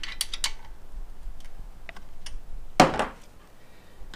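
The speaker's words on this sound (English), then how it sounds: "we are just gonna loosen up this bolt inside of here" A wrench, used with an Allen wrench, breaks loose a bolt inside a pressure washer pump: a single sharp metallic crack, preceded by a few faint clicks and light tool ticks in a quiet room.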